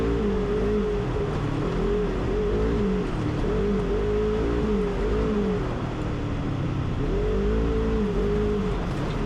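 A side-by-side UTV racing through tight woods on sticky tires, its engine droning loud and close throughout with repeated rising and falling revs as it accelerates and slows between trees.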